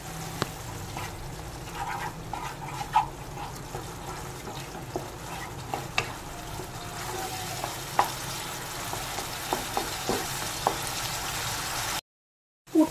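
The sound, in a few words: stirring and mixing a paneer filling in a pan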